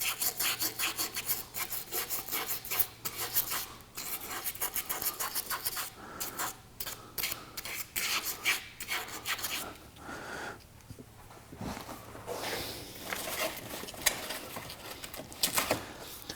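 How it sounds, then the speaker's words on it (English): A steel scope ring being scuffed by hand with 150 grit sandpaper, close, steady rasping strokes in a quick repeating rhythm, with brief pauses between passes. "this is just some 150 grit sandpaper that I'm using here. Just gotta scuff things up a little bit."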